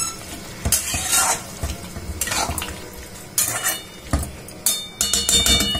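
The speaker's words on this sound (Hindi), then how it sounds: "एक टमाटर डाल के थोड़ा सा सब्जी को ऐसे मिक्स करके" A spatula scrapes and clinks against a pan as tomato is stirred into a sizzling vegetable curry, with repeated loud metallic strokes over a continuous frying hiss.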